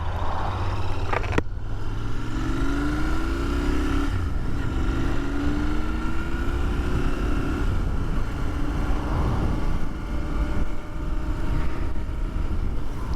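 A Royal Enfield Continental GT 650 motorcycle engine drones steadily while riding, pitch rising and falling through gear changes, with wind rush across the microphone.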